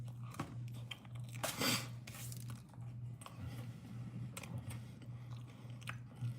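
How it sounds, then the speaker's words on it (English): A person chews Tombstone store-bought pizza close to the mic, with repeated wet bites and crunchy mastication spread over several seconds and no talking. "We're eating Tombstone pizza, the most crappiest pizza that you can buy from the store."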